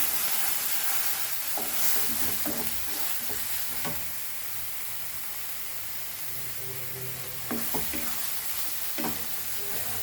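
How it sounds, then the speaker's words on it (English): Goan pork sorpotel with green masala sizzles and hisses steadily in a pan over a slow flame, close up, with occasional spoon scrapes and stirring clatter and no talking. "Fry this for around 5 minutes nicely."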